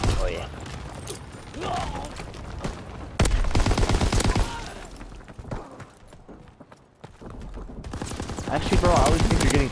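Light machine gun fire in Call of Duty WW2 comes as rapid rattling bursts, loud and near, stopping and starting, while several people talk over it.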